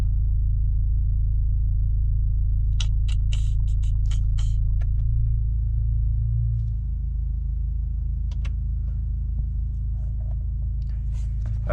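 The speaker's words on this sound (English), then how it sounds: "I'm going to let this car run" An Acura RDX idles while parked with a low, steady engine rumble throughout, joined by a few faint clicks and brief rustling handling sounds over the top.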